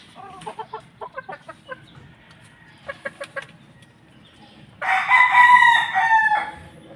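White Kelso chickens cluck in short bursts, then a rooster lets out a loud, drawn-out crow near the end, with steady low background noise underneath.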